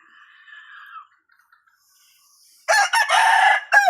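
In a rainy backyard, a rooster crows loudly and close, following a softer, drawn-out squawk and a brief pause; nearby hens cluck faintly.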